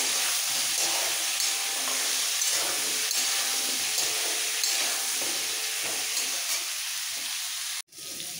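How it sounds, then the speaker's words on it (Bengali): Pointed gourd and potato pieces seasoned with salt and turmeric hiss and sizzle steadily in hot oil in a pan, a continuous close frying sound that cuts off abruptly near the end, with no talking. "নুন হলুদ দেওয়ার পরে পটল আলুগুলো একটু ভেজে নিতে হবে।"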